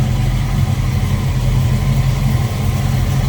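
A 1966 Ford Mustang coupe's V8 engine runs at a steady idle, a loud close low rumble with even throbbing pulses and no talking over it.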